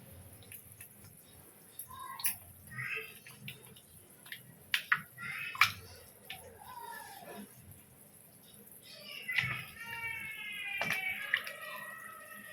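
Two tomatoes are squeezed and mashed by hand in tamarind water for pepper rasam, giving soft wet squelches, drips and small splashes in irregular bursts against a quiet kitchen background.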